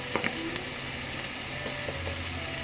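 Ginger and cumin paste sizzles softly and steadily in a pan for fish bhuna, a faint continuous frying hiss with a few light clicks of stirring.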